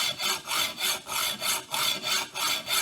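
A hacksaw cuts through a Tiger Cub motorcycle frame with steady back-and-forth strokes, about eight in a regular rhythm. Each rasping pass is clear and close, with no speech.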